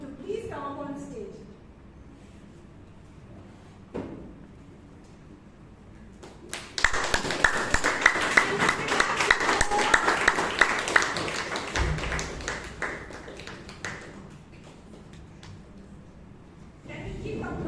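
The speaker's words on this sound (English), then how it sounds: "Can we keep applauding?" An audience applauds at a Toastmasters meeting in Bangalore, a dense burst of clapping that swells for several seconds and then fades, with speech before and after it.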